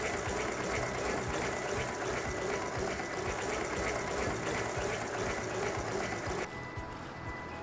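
A sewing machine runs steadily while winding thread onto its bobbin, producing a continuous close mechanical whir with a fast rhythmic clatter that drops abruptly to a quieter hum near the end.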